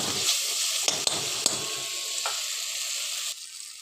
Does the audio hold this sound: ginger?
yes